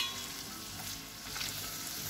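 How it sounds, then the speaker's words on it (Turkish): Garlic and vegetables sautéing in oil in a pan for a crepe lasagna, a steady, dense sizzle with faint stirring, close and continuous throughout. "Biraz da bunlar sotelensin"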